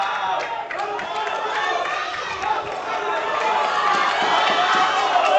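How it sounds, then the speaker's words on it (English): A dense, loud crowd at a powerlifting championship roars and chatters in steady support of a lifter, with the noise building slightly toward the end. "You can hear the Puerto Rican crowd giving him support"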